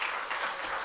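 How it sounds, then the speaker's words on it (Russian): Applause from the audience at an anniversary concert of a folk art house in Ingushetia after a singer is introduced. A dense, steady wash of many hands clapping fills the brief moment. "Ваши аплодисменты!"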